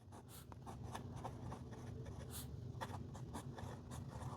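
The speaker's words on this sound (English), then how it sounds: "Looks like it's writing decently right off the bat." A fountain pen scratching across paper, inked with Ferris Wheel Press Oyster Hour, gives a soft steady scraping of strokes with a few brighter ticks, quiet and close, with no voice.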